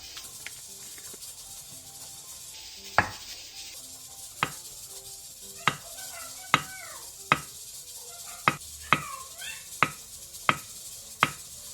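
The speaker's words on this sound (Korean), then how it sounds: "순두부 한 개를 절취선에 따라 잘라 꺼내준 뒤 2cm 정도 두께로 통썰기 해주세요" Soft tofu (sundubu) being sliced into 2 cm thick rounds with a knife on a cutting board, about ten sharp, evenly spaced knife taps that come quicker toward the end, close and fairly quiet, with no talk.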